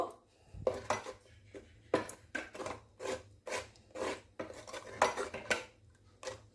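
A spatula stirs and presses rice flour lumps in a pot while making phirni, producing repeated scraping, clinking strokes against the metal in a steady irregular rhythm, close and fairly loud with no talk.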